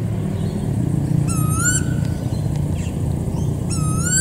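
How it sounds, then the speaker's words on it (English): A common koel's loud call rises twice in quick whistled sweeps, once early and once near the end, over steady traffic rumble in Deception Bay. "There's this really loud sounding bird it's sitting quite high up in this tree"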